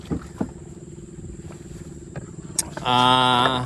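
Boat engines running on the water on the way home from fishing, a steady low rumble that gains a louder harmonic mechanical whine near the end.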